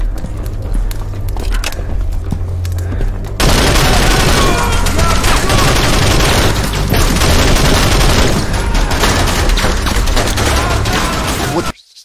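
Rapid bursts of video game gunfire from S.T.A.L.K.E.R. 2: Heart of Chornobyl crackle almost nonstop, loud and dense, dropping out abruptly near the end; no speech.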